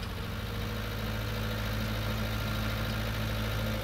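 A tractor engine in Farming Simulator 19 idles with a steady, droning rumble, even and continuous throughout with no change in pace.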